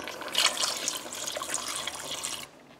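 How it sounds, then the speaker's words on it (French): Water from a tap pours steadily into a stew pot of tomatoes for a couple of seconds, a close, even splashing rush that stops abruptly. "C'est le temps d'ajouter de l'eau."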